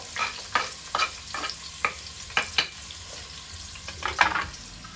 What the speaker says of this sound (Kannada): ಸೊ ನಾವಿವಾಗ ಶಾಲೋ ಫ್ರೈ ಮಾಡಬೇಕು ಈ ಈರುಳ್ಳಿಗಳನ್ನ.